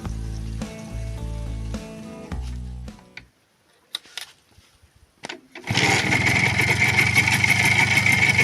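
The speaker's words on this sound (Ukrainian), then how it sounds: "Мотоцикл повністю зібраний, все підключено, то можна його вже і спробувати завести." A Minsk motorcycle with a rebuilt 3.1122 two-stroke engine coughs briefly, goes quiet with a few knocks, then fires and settles into a loud, steady idle heard up close with no talking.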